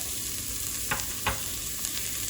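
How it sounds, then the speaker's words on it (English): Olive oil hissing in a hot preheated pan makes a loud, steady sizzle that runs through the whole stretch. A few brief scrapes and clicks break in, and no voice is heard. "Gonna add some olive oil"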